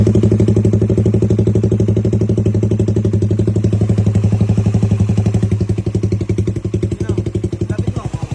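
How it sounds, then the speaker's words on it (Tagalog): A motorcycle engine idles nearby with a loud, rapid, even chugging pulse that slightly loosens and wavers toward the end. "Ito kung gano'n ka-timing ang makina."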